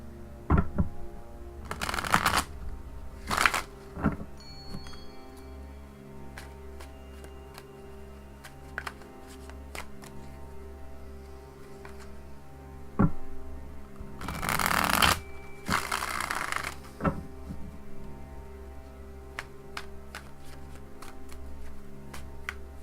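Tarot cards being shuffled in quiet, repeated bursts of riffling with pauses between, near and fairly soft, with no talking.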